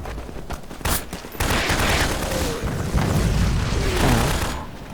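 Gunfire and explosions in the Garry's Mod war game: a dense, continuous barrage of shots and booming blasts that runs almost the whole time, loud and close, with no talking over it.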